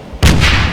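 A grenade goes off in the Wolfenstein (2009) video game: one sudden loud blast that hits hard and rolls on into a sustained rumble.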